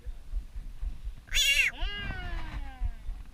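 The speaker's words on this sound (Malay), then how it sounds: "Kucing punya tiga ni." A cat gives a loud, close, drawn-out meow with a falling pitch, followed by a softer trailing cry, over faint background rumble; no one speaks.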